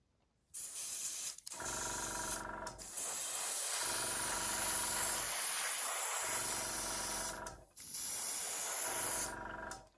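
An airbrush sprays weathering paint onto an N gauge model train in long, close, steady hissing bursts broken by short silent gaps.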